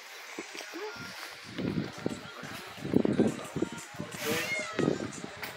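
Several sterilized feral cats meow repeatedly at close range during release, overlapping cries coming in irregular bursts over a quiet background.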